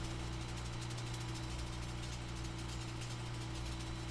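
Airbus A320 jet engines windmilling at low speed in a flight simulator game, a steady droning hum with strong low tonal bands and constant mid-frequency rumble, even and continuous throughout.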